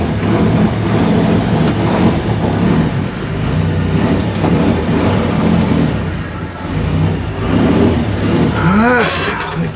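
A two-wheel-drive vehicle pulls away outdoors with a loud, steady engine rumble and rising revs, close and sustained throughout, ending in a brief squealing whine.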